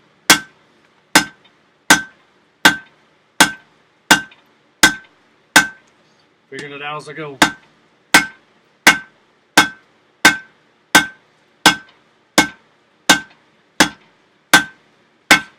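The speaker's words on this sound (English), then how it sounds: "you can feel the metal squish underneath the weight of the hammer" A hammer strikes hot metal on an anvil at a backyard blacksmith forge in steady, evenly spaced ringing blows, loud and close, pausing once for a brief spoken remark before the rhythmic hammering resumes.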